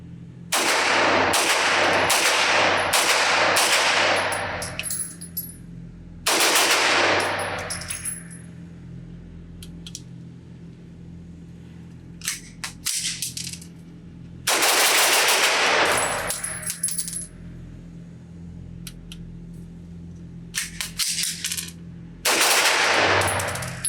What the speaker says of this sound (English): let's see how this thing shoots with the binary trigger from a Glock magazine